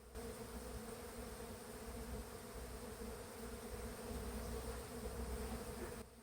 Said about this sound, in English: Today's a little warmer, and the bees are all over it.